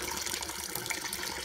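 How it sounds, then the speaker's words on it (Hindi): Pre-heated water pouring into a pan of shami kabab mixture, a short, faint, steady gush of liquid heard alone. "अब इसके अंदर पहले से गर्म किया हुआ पानी, पानी हम लोगों ने कम से कम इसके अंदर 4 कप डाला है"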